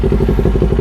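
A motorcycle engine running close by, a steady low throbbing rumble with regular pulsing beats, loud and continuous with no talk over it.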